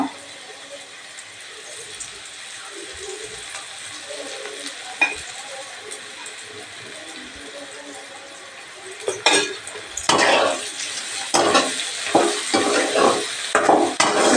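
Onion frying in oil in a pan for a spicy chili dish, a soft steady sizzle with stirring and scraping that grows louder and busier toward the end, close by, with some talk.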